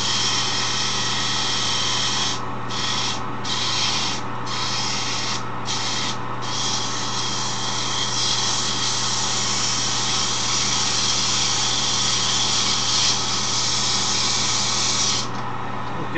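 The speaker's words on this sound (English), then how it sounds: "I like to sand it on the lathe because it takes out all the rough spots." Wooden handle being sanded on a spinning wood lathe: a continuous high whirring hum with a steady motor tone, interrupted by several brief gaps early on as the sandpaper is lifted and pressed back against the wood.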